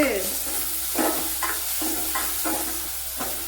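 Dried red chillies dropped into hot oil for a Kerala-style rasam crackle with a steady close sizzle, broken by regular scraping stirs about every half second, with no talking.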